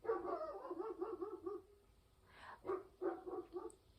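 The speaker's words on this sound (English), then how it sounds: "excuse the noise if you hear my dog barking" A dog barks in two quick bursts of several sharp, close barks, separated by a short pause with a faint yelp.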